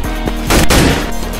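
A single sharp gunshot bursts loudly from Counter-Strike: Global Offensive gameplay, sounding briefly over a low background hum with no talking.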